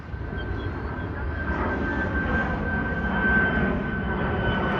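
A fixed-wing airliner performing a go-around at Chicago O'Hare International Airport: a steady, loud jet engine roar that swells gradually, heard from a distance with a thin whine above the rumble.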